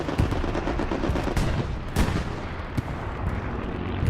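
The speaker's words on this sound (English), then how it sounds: "Oh, there's a strafe." Aircraft strafing run in Hell Let Loose on the El Alamein desert map, heard as a continuous dense roar of rapid gunfire with a few sharper bursts standing out, loud and steady throughout.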